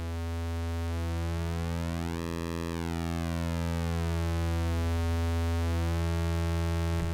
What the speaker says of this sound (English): And the oscillator has a pulse width option built in. Sounds like this.